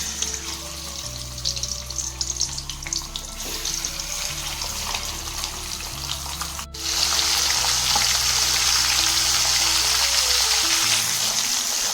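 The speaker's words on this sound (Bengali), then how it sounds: "তেলটা গরম হয়ে গেছে, এবার আমি আস্তে আস্তে তেলের উপরে মাছগুলো দিয়ে দিচ্ছি।" Fish frying in hot mustard oil in a pan at home gives a steady, close sizzle that turns suddenly louder and denser partway through, with soft low tones running underneath.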